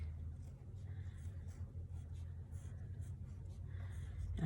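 A marker or chalk writes a word on a classroom board, soft faint scratching strokes in short bursts over a low background rumble.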